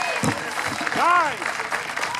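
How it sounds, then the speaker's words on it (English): At a Highland Games event, a crowd's scattered applause is heard faintly in the distance, brief and light, beneath a nearby voice talking over it. "round of applause"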